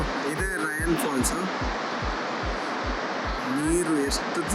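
Rhine Falls in Switzerland roars as a constant broad rush of water, with people talking over it.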